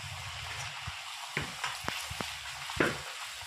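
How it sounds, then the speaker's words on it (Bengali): Luchi fry in hot oil with a soft, steady sizzle. Sharper pops and crackles spit out at irregular moments, close and fairly quiet, with no talking. "এবার এক এক করে সমস্ত লুচিগুলো আমি ভেজে নেব"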